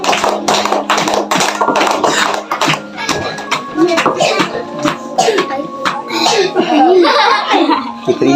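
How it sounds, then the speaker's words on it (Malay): A classroom at an alternative learning centre claps for a student named Azril, with rapid steady applause running throughout, mixed with children's laughter, giggles and chatter. "bagi tepukan kepada Azril"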